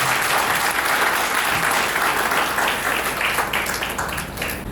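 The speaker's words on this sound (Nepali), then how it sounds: "एकपल्ट ताली बजाएर समर्पण गर्नुहोस्।" Guests at a Nepali Christian wedding applaud in a dense, sustained round of clapping that stays loud throughout and fades slightly at the end.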